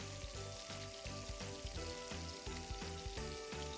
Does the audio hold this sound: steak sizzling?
yes